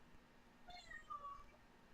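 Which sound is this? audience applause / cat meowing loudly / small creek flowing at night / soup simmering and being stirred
cat meowing loudly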